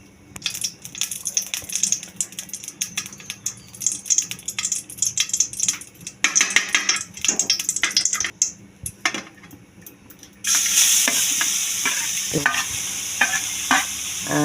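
Grated raw papaya sautéed in ghee in a pan: irregular scraping and clattering of a spoon stirring, then a sudden burst of loud steady sizzling in the last few seconds.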